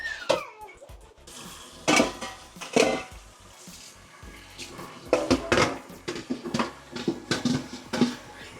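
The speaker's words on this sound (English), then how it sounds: "Just wash up these dishes" Dishes and cutlery clatter in a home kitchen sink during cooking, with sharp irregular clinks and knocks of plates and pots over faint running water, close and fairly loud.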